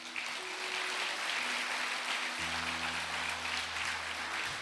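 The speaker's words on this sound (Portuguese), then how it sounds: "Você pode dar uma salva de palmas para Jesus?" A church congregation claps, a steady wash of applause at moderate volume with sustained organ or keyboard tones droning underneath.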